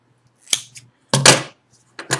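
Scissors snip off a yarn tail during crocheting, three or four quick, crisp cuts in separate bursts, close and fairly loud against a quiet room.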